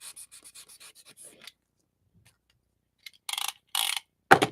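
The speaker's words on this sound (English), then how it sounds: "this foam stuff just shapes so well with even sanding" Sandpaper rubs a foam chess piece in quick, short strokes, first a rapid series of light scratches, then a pause, then a few louder, denser rasping bursts close by.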